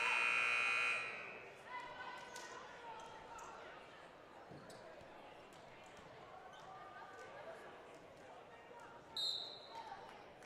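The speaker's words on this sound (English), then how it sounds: "Time will clock down, and the buzzer will ring." A loud electronic timeout buzzer blares for about a second in a volleyball gym between Longmont and Windsor, then fades into crowd murmur, bouncing balls and chatter, with a brief second buzz near the end.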